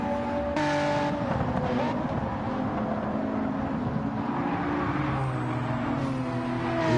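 Race cars on hard tyres running nose to tail at the Brazil circuit in Gran Turismo 7, engines droning steadily with shifting pitch under a continuous roar for the whole stretch.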